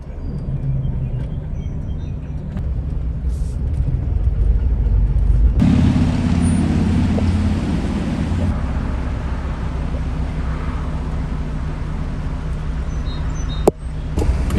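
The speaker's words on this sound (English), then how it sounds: "Yeah, see this traffic?" Road traffic rumbles past a van as it drives, a steady low engine drone with a louder vehicle swelling by midway and a sharp brief knock near the end.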